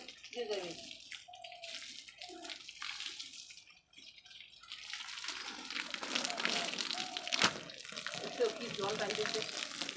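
Water splashes and runs steadily onto a dry vegetable field during morning watering, heard close with people talking over it.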